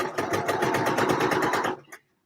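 A sewing machine stitching a muslin mock-up with long stitches, a rapid regular mechanical chatter that runs steadily for under two seconds, then stops abruptly with a final click.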